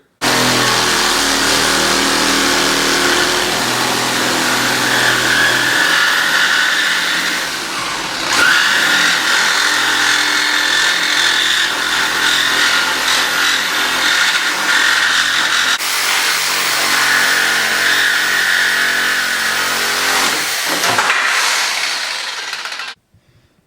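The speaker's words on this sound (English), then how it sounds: "This is fiberglass, so hopefully it's not too bad to cut through." A power tool cuts through the fiberglass front end of a Mustang with a loud, continuous high-pitched grinding whine. It pauses briefly around the middle, resumes, and then stops near the end.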